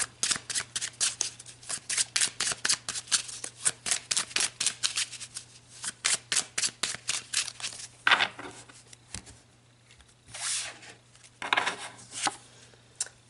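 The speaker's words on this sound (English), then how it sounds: "let's pull some more cards" Playing cards are shuffled and pulled for a card reading: a fast, even run of close riffling slaps, then scattered softer card slides and flicks toward the end.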